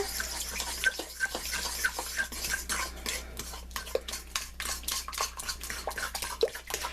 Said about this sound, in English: I'm just gonna beat it by hand